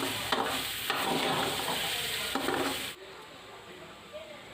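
A spoon stirs pieces of yam with masala in a frying pan for Tamil karunai kizhangu poriyal. Scraping and sizzling sound close and busy for about three seconds, then drop to a quiet sizzle.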